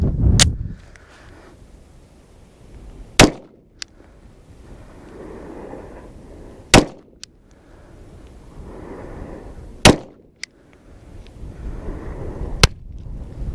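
Four sharp, loud gunshots from a Lorcin .380 pistol firing hollow point rounds, spaced about three seconds apart, each cracking over a background of wind noise.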